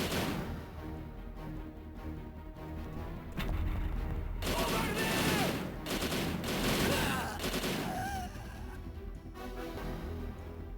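Full-auto shotgun blasts in GoldenEye 007 for the Nintendo DS come as rapid, dense bursts of gunfire. They grow louder in the middle of the sequence and sit among other game sounds.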